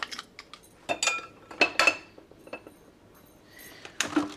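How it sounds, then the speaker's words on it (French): A small saucepan and utensils handled in a home kitchen while cooking chili cheese bites: scattered sharp metallic clinks and knocks, a few close together, with quiet pauses between, and no talking. "je vais me munir de ma petite casserole"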